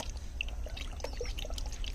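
Water mixed with poultry medicine pours and trickles into a drinker for backyard chickens, a light continuous splashing with small drips close by.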